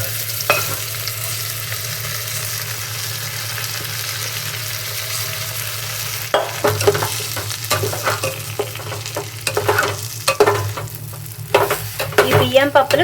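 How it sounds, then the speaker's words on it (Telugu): Washed, unsoaked rice and lentils fry in hot oil for khichdi, first as a quiet steady sizzle, then with loud, irregular scraping and clinking of a spoon stirring the pan. "బియ్యం పప్పులు కొంచెం ఆయిల్లో ఫ్రై అయినట్టు అయ్యి ఫాస్ట్ ఉడికిపోతాయా?"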